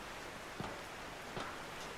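Quiet, even rainfall from the horror video game Anji, a soft continuous hiss with a couple of faint drop ticks and no voices.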